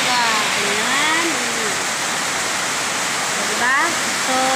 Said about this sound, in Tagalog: Ayan o, maulan po talaga.